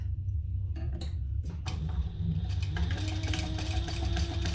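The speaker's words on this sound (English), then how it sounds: "we're going to sew that together at our seam allowance" A sewing machine stitches the seam of a crossbody bag, first with a few short starts and then running steadily as a close, buzzing whir.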